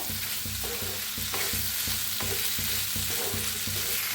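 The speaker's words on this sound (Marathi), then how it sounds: "छान असे भाजून घेऊया गवारे" Cluster beans (guar) roast in a pan, a constant dry sizzle under rhythmic scraping and clanking as a spoon stirs them in regular strokes; no voices.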